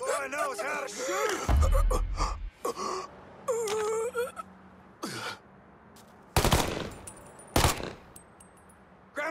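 Gunfire in the video game Mafia III, with sharp broadband bursts and a couple of loud shots standing out amid frantic shouting, grunts and moans.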